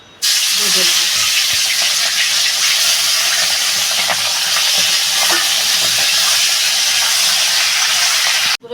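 A rohu fish head frying in hot oil gives a loud, steady sizzle and hiss that runs unbroken from start to finish, with a few soft clinks near the beginning.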